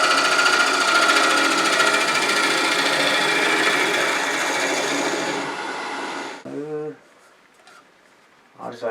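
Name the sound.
negative rake scraper smoothing a bowl on a wood lathe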